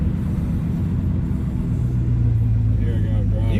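A 1968 Chevrolet Impala rolls along with a steady low engine rumble and road drone throughout, its tone rising slightly near the end, while people talk over it inside the car.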